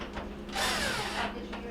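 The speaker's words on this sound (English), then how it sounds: "we can reinstall the screws on the top." A power screwdriver runs in one sustained whirring burst of about two-thirds of a second, driving a screw back into the top of a Whirlpool microwave during a repair; the sound is close and clear.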